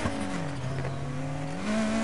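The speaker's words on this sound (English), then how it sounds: "Oh, I didn't mean to nitrous there" A car in the racing game NFS Heat fires its nitrous boost, a steady loud engine roar that rises in pitch near the end, heard alone without talk.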